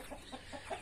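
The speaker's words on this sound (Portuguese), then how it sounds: "é aquela galinha briguenta que eu tenho" A quarrelsome hen gives a few soft, quick clucks close by, faint and brief, with no talking over them.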